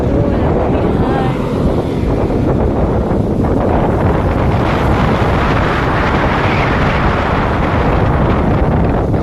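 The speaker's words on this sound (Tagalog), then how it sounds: "Lakas ng hangin." Strong wind blasts steadily across the microphone beside a roadside with passing private cars, producing continuous loud roaring rumble and buffeting for the whole stretch, without any talking.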